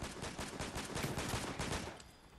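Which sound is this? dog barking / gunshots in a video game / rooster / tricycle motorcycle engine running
gunshots in a video game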